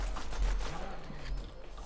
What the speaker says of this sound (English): Alright, now I'm gonna shoot.